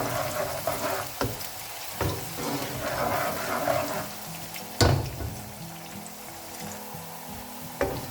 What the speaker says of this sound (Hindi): बघार के लिए प्याज डालेंगे और प्याज को लाल होने तक पकाएंगे